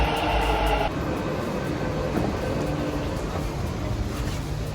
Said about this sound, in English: Here's our metro.